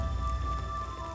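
A light rain falls gently, a soft, steady patter of drops on a surface with a low rumble beneath and faint sustained tones above.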